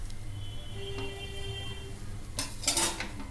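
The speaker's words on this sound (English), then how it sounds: "Now scrape the dosa from the bottom" Metal spatula scraping a crispy dosa off a hot, oiled griddle at a street dosa stall, a steady sizzle with a few brief scrapes and clinks, a louder burst of scraping near the end.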